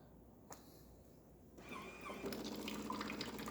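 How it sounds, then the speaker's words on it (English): Hot water streams from a Jura XJ9 espresso machine's spout. After a quiet start and a small click, the flow begins as a close, steady hissing gush that grows stronger and keeps running. "now we're going to be testing the hot water function"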